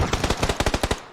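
A rapid burst of video game gunfire hits the player, roughly a dozen loud, evenly spaced shots ripping by in about a second, close and punchy.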